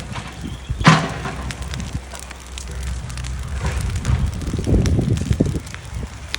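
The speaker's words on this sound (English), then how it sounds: "The wind gusts are a little scary at the moment" Outdoor wind gusting at an excavation site with rain beginning, rough buffeting noise rising and falling, a sharp gust early then swelling again near the end, no talk.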